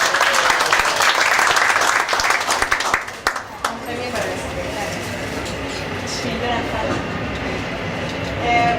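An audience at an expo talk bursts into loud applause for about three seconds, then the clapping breaks off and gives way to quieter room noise and faint voices.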